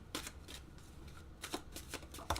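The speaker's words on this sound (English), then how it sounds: "I'm going to be shuffling and clearing the cards of any other energies that might be in it." A tarot deck being shuffled produces soft papery riffles and taps in irregular bursts, close up and quiet, with no voices.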